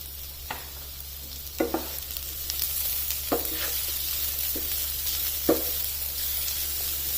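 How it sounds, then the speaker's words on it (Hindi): Raisins and carrots fry lightly in a pan for a pulao, a soft steady sizzle under a low hum, punctuated by a few distinct stirring scrapes and taps. "अब किशमिश को और गाजर को मैंने हल्का सा फ्राई कर लिया है"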